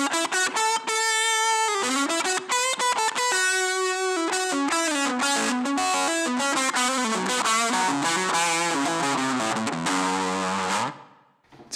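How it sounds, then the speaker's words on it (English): Electric guitar through an overdrive pedal returned after amp and cabinet modeling on a Line 6 Helix, a harsh, fizzy, chainsaw-like distorted tone playing a continuous loud melodic line alone, then cutting off abruptly. "The sort of impedance mismatch sounds like that, very chainsaw-like."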